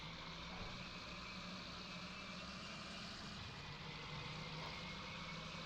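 A Ford F-250 "High Boy" pickup engine in Farming Simulator 2019 hums at a steady, even pitch with no variation, faint and alone without talk.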